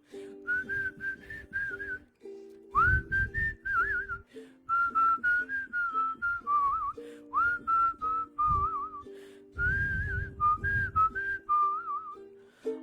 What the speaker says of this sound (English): how about a whistle solo?